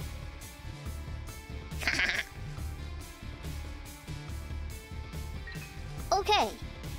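Sheep bleats from The Binding of Isaac video game, two short wavering cries a few seconds apart, heard over steady looping game music and sound effects.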